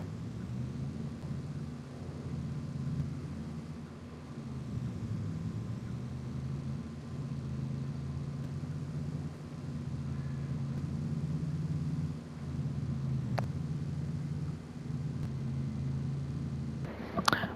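Truck engine in Farming Simulator droning steadily at close range, a low rumbling hum that holds for the whole stretch with slight dips in load, ending with a brief clatter.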